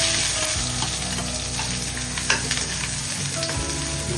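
Garlic, onion and ginger hit hot oil in a pan for chicken sinigang: a loud, dense, continuous sizzle with a few utensil scrapes and a sharper clink midway, close up and steady throughout.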